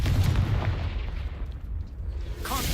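A Confringo spell blast in a video game lands as a heavy, booming explosion with a rumbling, crackling tail that fades, and another burst swells at the end.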